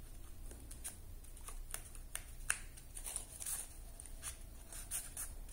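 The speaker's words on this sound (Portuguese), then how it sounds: "Cada um desses papeizinhos dobrando pra cá" Small paper pieces are folded by hand for a decorative craft slipper, producing close, soft crinkles and light taps in an irregular series of short rustles.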